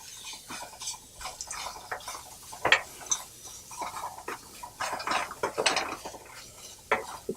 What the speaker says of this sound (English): Fry it all together.